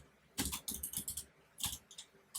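Bursts of rapid keystrokes on a computer keyboard, in two clusters of close clicking separated by a short pause, recorded near and alone without talk.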